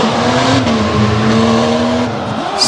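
Race cars howl loudly around a dirt-track corner at the Renegade Round Up, a steady close engine roar with tire scrubbing and a brief sharp squeal at the end.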